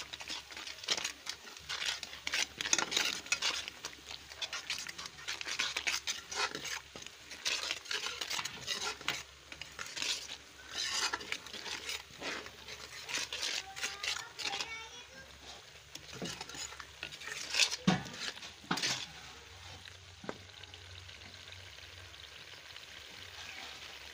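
A spoon stirs turmeric, black pepper, korma masala and chicken powder in a pan for aloo curry, with steady scraping and clinking strokes and soft sizzling close by, no talk.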